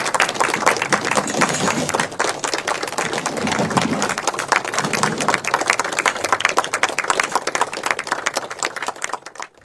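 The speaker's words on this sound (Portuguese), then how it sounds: "A despedida aconteceu como ele merecia, com aplausos" Sustained applause from mourners at a funeral farewell for a documentary filmmaker, many hands clapping in a dense, steady patter that thins out slightly toward the end.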